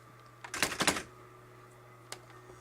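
Brother EM-411 electric typewriter/word processor typing without the word processor function, a quick burst of several loud mechanical key strikes followed by a single isolated clack after a pause.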